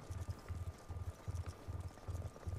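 Horse hooves in the video game Black Ops 2 beat out a quick, steady clip-clop gallop, faint and even, with no talking over them.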